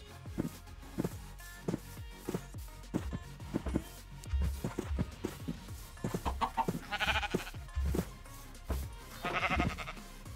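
Sheep in the video game Minecraft bleat repeatedly, short nasal calls scattered among soft clicks and footstep-like taps, with fuller bleats toward the end.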